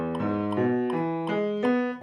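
Piano playing a slow beginner scale in steady quarter notes, about six even strikes each ringing into the next, close and moderately quiet with no talk.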